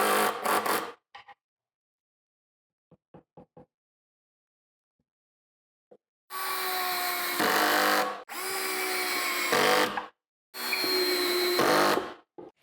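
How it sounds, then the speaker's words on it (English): A cordless drill drives pocket screws into a plywood shelf in a workshop, with three long loud whirring runs separated by pauses, after a short burst at the start and a few quiet clicks of clamping. "now I'm clamping everything else in place so I can put the pocket screw in"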